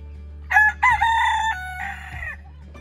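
A rooster crows loudly and close by in a backyard chicken coop, one full cock-a-doodle-doo with a rising start and a long held, fading tail over a low steady hum.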